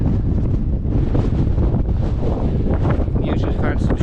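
Strong wind buffets the microphone on the bouldery summit of Great Whernside, a loud continuous roaring gust with no let-up across the whole stretch.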